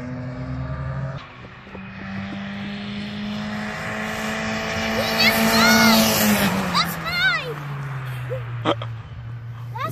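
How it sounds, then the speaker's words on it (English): A BMW race car engine passes on the Refrigeration Bowl track at Summit Point Raceway, rising in pitch as it approaches, then dropping as it goes by. It begins fairly distant and grows louder mid-pass, with other engine noise in the background. "Ooh, that bimmer sounds good."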